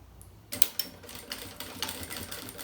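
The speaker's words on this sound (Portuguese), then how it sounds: "Então, eu passo aqui a costura" A sewing machine stitches fabric strips for a jewelry box, starting after a short quiet moment and then running in quick mechanical bursts, close and fairly soft.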